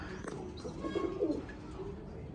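A pigeon coos close by in a series of low, soft, rolling calls in the middle, with a faint voice in the background.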